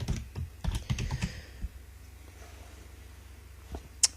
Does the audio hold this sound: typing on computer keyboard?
yes